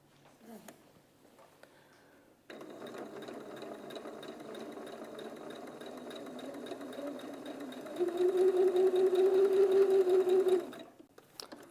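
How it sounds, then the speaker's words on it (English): A sewing machine stitches a quarter-inch patchwork seam in fabric. It hums steadily for several seconds after a quiet start, then speeds into a louder, faster whir before stopping abruptly. No voices. "we're going to take this to the machine and sew that 1/4 inch seam"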